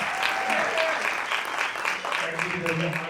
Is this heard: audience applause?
yes